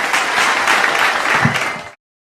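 Mushaira audience gives poet Abrar Kashif loud, dense applause, a full steady roar of clapping that cuts off abruptly.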